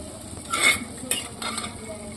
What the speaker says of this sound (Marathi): मूग घातल्यानंतर हे मिक्स करून घेऊया